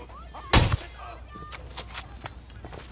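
Gunfire in the video game Tom Clancy's Ghost Recon Wildlands: a loud sharp burst of shots followed by scattered fainter cracks and impacts, with game voices in the background.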